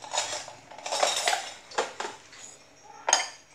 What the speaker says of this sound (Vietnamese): Giờ mình lấy cái muỗng mình tán nó ra.